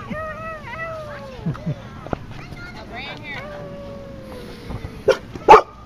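A dog gives a few sharp barks near the end, loud and close. Before that, high whining yelps and people talking fill the room at a fifth birthday party.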